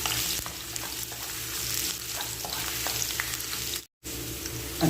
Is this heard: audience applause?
no